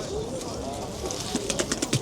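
Pigeons and other birds at the Sabunchu bird market, with faint coos and chirps rising over a busy crowd hum and nearby talk, several brief calls clustering near the end.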